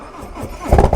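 A Harley-Davidson Road Glide motorcycle fitted with carbon fiber wheels fires up, a brief cranking rumble that quickly swells into a loud, close engine roar.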